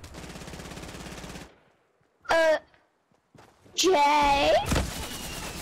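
Gunfire from the Fortnite video game, including a heavy sniper, comes in two loud bursts separated by near-silence, the second longer and denser, with a brief spoken word in between.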